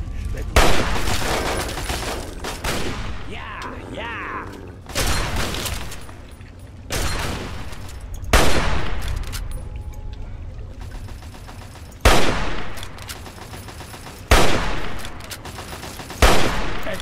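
A grenade blast and bursts of gunfire in the video game Fallout 3, with sharp, loud shots recurring every few seconds over a steady rumbling background, and no voices.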